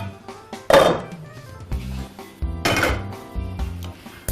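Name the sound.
wide cooking pot being handled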